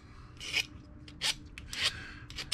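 A coated steel brake line end gets a slight bevel, heard as several short, separate raspy filing strokes that stand alone at close range.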